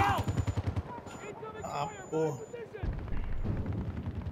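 Rapid bursts of automatic gunfire and impacts from the shooter game Battlefield 2042 rattle throughout, heavy and dense, while a player talks and exclaims over the combat.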